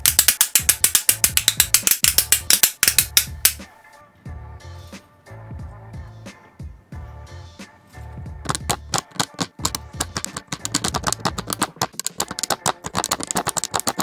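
A gaming keyboard with a diamond Minecraft design gives off rapid, loud mechanical clacking close by. Dense bursts of key strikes come in uneven runs with short pauses between them, and there is no talking.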